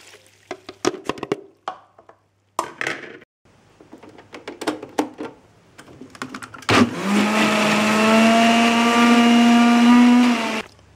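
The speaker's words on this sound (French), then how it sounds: "Je vais le mixer avec l'eau bouillante" A blender whirs at steady high speed for several seconds, mixing parsley with boiling water. Before it starts there are scattered clicks and knocks as ingredients and the lid go in.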